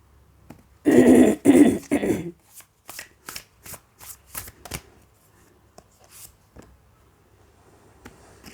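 A deck of tarot cards being shuffled close up, a loud riffle in three quick bursts followed by a series of lighter, evenly spaced card snaps and taps that fade out.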